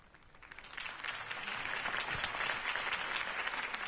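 Crowd applause after a campaign speech in a Batman video game, a steady wash of clapping that swells in over the first second and holds at moderate volume.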